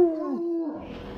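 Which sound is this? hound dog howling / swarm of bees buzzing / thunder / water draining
hound dog howling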